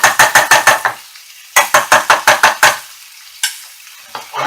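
Curry paste and chicken being stirred in a hot pan, heard as loud, rhythmic scrapes of a spoon in two quick bursts of about six strokes each, then a few isolated scrapes over a faint sizzle, nobody speaking.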